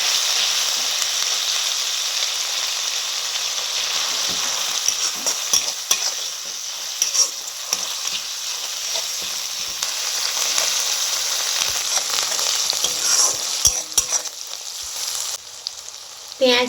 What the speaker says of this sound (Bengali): তেলের মধ্যে পেঁয়াজ ভাজাটা দিয়ে দেবো।